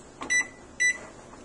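A kitchen microwave oven is keyed in for a two-minute cook time while making a chocolate mug cake: two short electronic beeps about half a second apart, clear and close.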